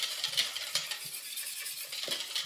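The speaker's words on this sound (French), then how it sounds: "et on vient mélanger." A whisk or spoon stirs milk into a cream powder and egg mixture in a bowl, a close, continuous scraping swish with rhythmic clinks against the sides and no talking.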